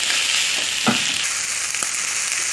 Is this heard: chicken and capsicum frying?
yes